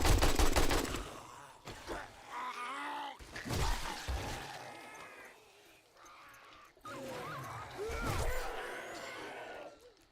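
Bursts of AK rifle gunfire in 7 Days to Die come in several separated volleys, moderately loud, with shattering and groaning zombie sounds in between.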